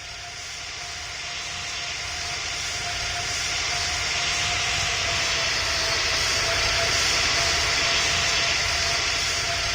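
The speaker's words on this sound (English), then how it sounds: "The A320, which is, of course, the world's most selling commercial airliner." Airbus A320 airliner flying in a Roblox airshow game, a steady jet engine roar with a faint tonal whine that slowly swells louder across the stretch, no voices.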